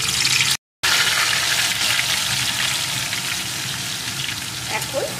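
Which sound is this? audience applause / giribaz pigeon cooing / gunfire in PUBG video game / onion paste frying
onion paste frying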